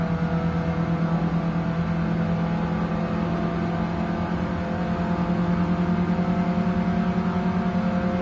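A racing car engine in Gran Turismo 7 holds a steady, sustained drone with a stable tonal whine throughout the lap, no talking heard.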